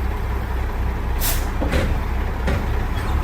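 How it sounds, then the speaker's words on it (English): Steady engine rumble with a few short hissing bursts of air, then quieter air releases, as a semi trailer's tandem slide pins release by air pressure and pop into place. "it released the pressure, so it popped, the pin popped in"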